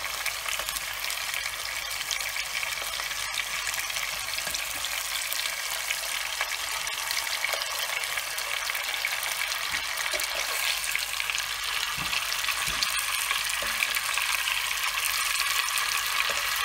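Murray cod frying lightly in oil, giving a continuous even sizzle and crackle that holds steady throughout, with faint clinks of handling and no talk.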